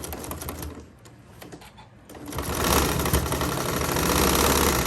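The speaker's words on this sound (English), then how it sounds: "We're going to put this in our machine and sew at a 1/4 inch from one side to the other" A sewing machine stitches a zipper pouch, a close, rapid mechanical rattle that slows briefly and then runs faster and louder, with no talking.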